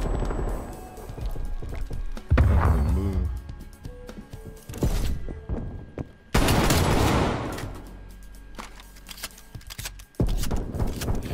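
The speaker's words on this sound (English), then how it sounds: "Yo, this shotgun stands out." Heavy shotgun blasts from Black Ops Cold War boom in separate loud shots, spaced a few seconds apart, mixed with other game noise and occasional voice.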